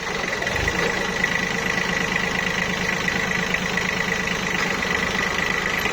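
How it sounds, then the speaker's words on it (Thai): A small 17-horsepower Kubota three-cylinder four-wheel-drive tractor engine runs steadily at idle, a continuous low chugging rumble close by with no voices. "สิบเจ็ดแรงม้าเครื่องยนต์สามสูบกับเครื่องสี่ล้อ"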